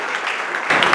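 Crowd applause for the couple at a Togolese wedding, a steady broadband patter of many hands clapping that swells louder toward the end.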